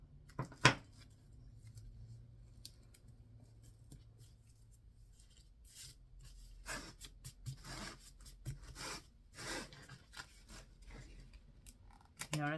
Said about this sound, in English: I think I might use the scissors for that